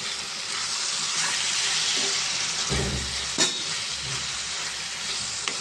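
Chopped tomatoes hit a pan of frying onions for a village-style egg, dried fish and tomato curry, giving a steady loud sizzle and hiss with a brief burst and stirring scrapes near the middle.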